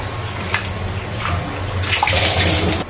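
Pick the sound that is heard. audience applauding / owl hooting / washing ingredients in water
washing ingredients in water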